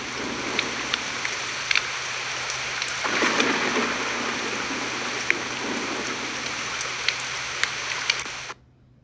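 Steady rain patters from a lofi app, with scattered drip-like ticks and a swell of rumbling thunder around the middle; the ambience holds evenly and then stops abruptly near the end.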